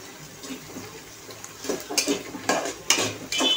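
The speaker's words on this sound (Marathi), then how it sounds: "आता आपण आपले कांदे छानपैकी फ्राय करून घेऊया।" Onions fried and stirred in a pan, a steady close sizzle with scraping spoon strokes and light clinks against the metal, louder in bursts as the mixture is turned.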